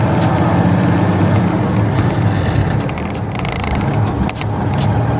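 A very old straight truck's engine runs in the cold on a farm. It makes a loud, steady, rough rumble close by, with a few faint clanks and jingles over it, and nobody speaks.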